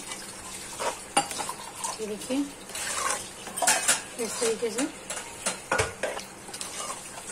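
Metal spoon stirring a potato and parwal curry in a pan after water is added, repeated scraping and clinking strokes with a soft sizzle beneath, while someone talks.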